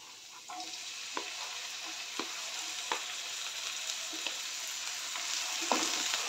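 Tomato and onion sauté in a pan for okra bhaji, giving a faint, steady sizzle with regular light scrapes of the spoon every second or so.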